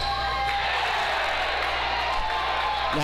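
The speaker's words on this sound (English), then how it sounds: "Now the crowd's standing up, and they only like to cheer for his dunks" A basketball crowd at a St. Joseph vs. SLO game roars and cheers in a dense, steady wash of noise, loud and close throughout, with no single voice standing out.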